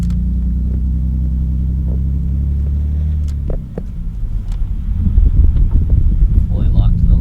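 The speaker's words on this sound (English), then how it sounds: "Drive the car in tight circles." A Z32 Nissan 300ZX is driven in tight circles around a parking lot with the steering fully locked. A steady low engine drone gives way midway to a rougher, louder rumble mixed with wind buffeting.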